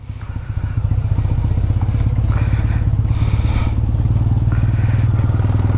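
A chopper motorcycle engine, kick-started, chugs close and loud with a steady rapid thumping idle, a few clattering mechanical rattles riding over the low pulse.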